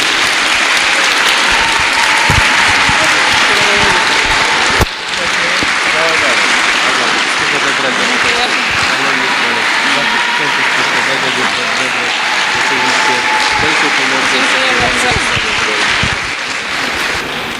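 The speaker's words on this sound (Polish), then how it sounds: "olbrzymie brawa dla Magdy Brendel, mistrzyni Polski" Sustained applause from a large audience celebrating Magda Brendel, Polish champion, dense steady clapping throughout with a brief dip near five seconds, loud and close.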